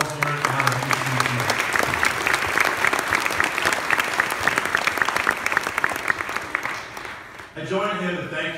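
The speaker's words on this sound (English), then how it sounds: "a round of applause to Peter for all his work and all his work." An audience at a school awards ceremony applauds loudly and steadily for several seconds, dense clapping that stops abruptly near the end as a voice begins speaking.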